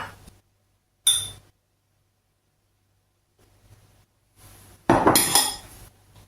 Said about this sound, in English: So you're going to put the sugar and the salt into the bowl and mix them up.